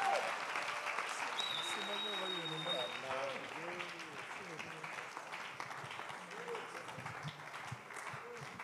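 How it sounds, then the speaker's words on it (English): A church congregation at a prayer and fasting service claps hands in a dense, continuous burst of applause while voices sing and call out over it. "A bigger hand clap to Jesus"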